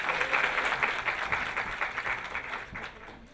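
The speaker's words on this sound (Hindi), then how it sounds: "एक बार तालियों से स्वागत करें।" Audience applause welcoming a guest at a talk on heart disease, a soft, dense wash of clapping heard at a distance, steady and fading slightly at the close, with no voices.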